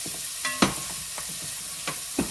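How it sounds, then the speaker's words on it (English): Onions and peppers sizzle in a hot pan while being cooked for chili, giving a steady frying hiss broken by a few sharp stirring clicks, close and alone with no talk. "add in all of our onions and peppers in one go. It's got that nice sizzle."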